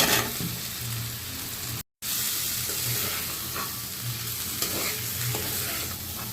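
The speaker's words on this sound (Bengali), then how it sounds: "এখন দিয়ে দিচ্ছি ভেজে রাখা সবজিগুলো।" Fried taro, potato and cauliflower go into hot spiced oil and are stirred, producing a loud hiss and crackle with scraping strokes and one very short dropout near the start.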